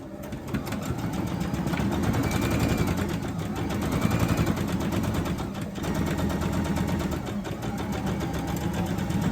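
A sewing machine runs a continuous, even stitch around the curved edge of a split-side skirt, its rapid needle rattle close and steady throughout with a brief slowdown partway, no talking.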